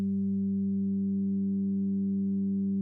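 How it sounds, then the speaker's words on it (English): Synthesizer oscillators with a super oscillator, sub-oscillator and ring modulation hold one steady, unchanging drone, close and even from start to end with no talking. "Now I'm going to bring in some ring mod."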